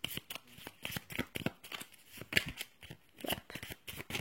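Tarot cards shuffled and drawn in a quiet room, soft irregular riffles and card slaps at close range, faint overall, with no talk.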